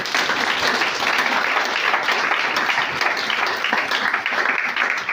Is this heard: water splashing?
no